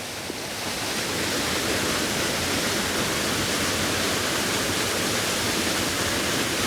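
Hull Creek Falls, a Pennsylvania waterfall, roars from very close by as a dense, steady rush of falling water that fills the whole clip with no voices.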